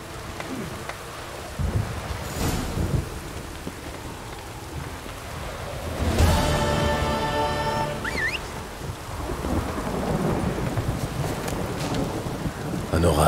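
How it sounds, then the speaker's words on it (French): Thunderstorm in The Witcher 3, steady heavy rain with a loud thunder roll and crack midway, rumbling on under the continuing downpour with a brief whistling tone. "Un orage. Manquez plus que ça."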